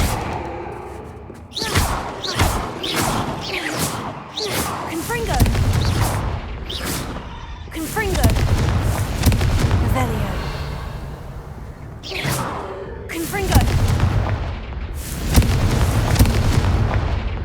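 Confringo spells go off in the video game Hogwarts Legacy as a string of loud, booming blasts with heavy low thuds and crackling debris, coming in repeated bursts over nearly twenty seconds, with voices intermittently mixed in.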